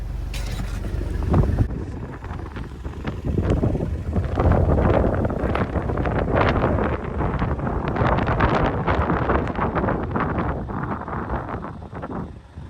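Steady wind gusts buffet the microphone outdoors at the Vee Pass viewpoint in Ireland, a continuous rough rushing that swells and eases with no voices.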